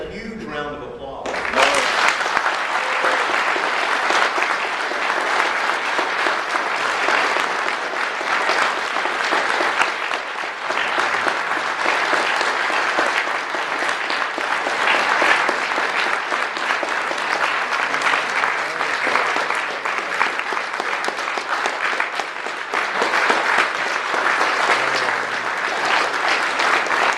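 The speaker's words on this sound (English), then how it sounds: "Gardner deserves a huge round of applause." A Readercon 2011 convention audience gives guest of honor Gardner Dozois a long, loud, sustained round of applause that starts abruptly and continues steadily throughout.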